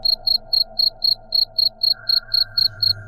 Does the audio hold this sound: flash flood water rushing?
no